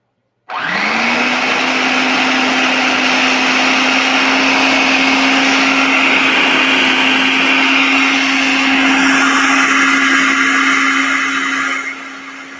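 A blender starts abruptly and whirs at a steady high pitch for about eleven seconds as it breaks down sun-dried tomatoes with fresh ones, loud and close, then spins down near the end.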